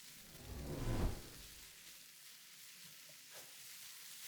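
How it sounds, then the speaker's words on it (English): Onions cooking in a pan over medium-high heat, a quiet, steady soft sizzle with one brief louder rustle near the start, no talking. "I want to cook these onions on medium-high heat for just a few minutes"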